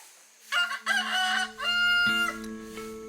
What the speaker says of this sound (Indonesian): Ayam jantan berkokok, memanggil seluruh warga untuk menyambung hari.